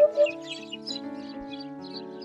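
A hoopoe calls in a few soft, repeated tweeting notes, fairly faint and set over a sustained tonal background, with no speech.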